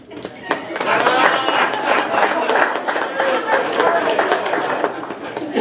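Comedy club audience in Ohio breaking into a round of applause, dense clapping with scattered sharp claps and murmured chatter, building quickly and holding at a steady level throughout.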